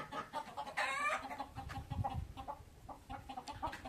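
Chickens cluck in a farm shed, a lively mix of near and farther hens giving short, overlapping clucks and calls, with one louder squawking burst early on.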